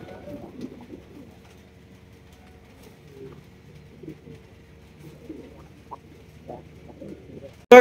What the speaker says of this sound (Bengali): এখানে রয়েছে আপনাদের জন্য ভিনদেশি কবুতর, আনকমন রেয়ার কালেকশন